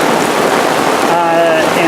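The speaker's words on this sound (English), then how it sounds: "it's a pretty good little stream, and it's constant, and it's enough to overflow the regular drains" Constant rushing stream of water flowing into a rain garden and a street drain, loud, close and even, with a brief tonal whine near the end.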